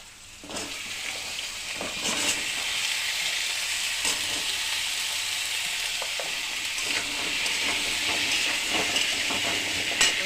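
Beans, pumpkin and peas fry in a pan with a steady, loud sizzle that swells and crackles throughout, with occasional stirring clatter and no talk.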